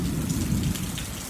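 Steady, dense rain pours down around a porch as a thunderstorm moves in, with a deep low rumble running under the hiss throughout. No voices are heard.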